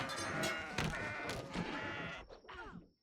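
Goats bleating in the Kenshi video game, a few overlapping cries over busy game ambience that fades out near the end.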